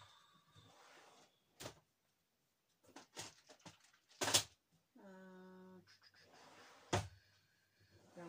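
Drawers slide open and bump shut several times indoors in a craft room, scattered scrapes and knocks at moderate volume with brief rattling and a squeaky rolling sound between them, no clear talking.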